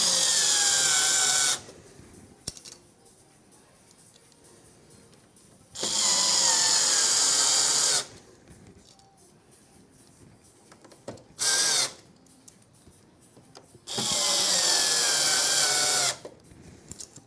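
A power drill drives screws during an all-white gaming PC build with a Ryzen 9800X3D and RTX 5080, three loud sustained whirring bursts of about two seconds each plus one short blip, with quiet gaps between.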